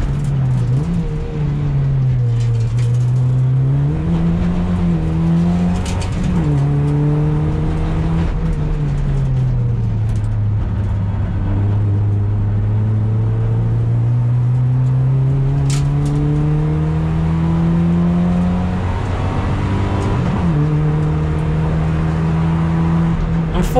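Toyota Yaris with upgrades lapping the Curborough sprint course single-lap layout, its engine droning and rising through the gears in long sweeping pitch climbs, steady and loud throughout with brief dips at shifts.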